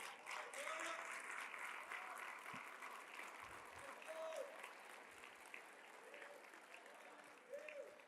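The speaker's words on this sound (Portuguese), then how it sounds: "Aplauda Jesus bem forte." A church congregation claps loudly and steadily during a worship service, a dense, sustained burst of applause with a brief tonal swell and faint voices mixed in.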